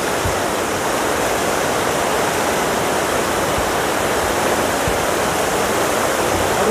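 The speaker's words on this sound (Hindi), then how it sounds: "तुतला भवानी का यही मज़ा बहुत काफ़ी है कि पानी बहुत हाइट से गिरता है" Tutla Bhawani waterfall, water dropping from a great height, roars as a loud, steady broadband rush that fills the whole clip without a break, with no voices over it.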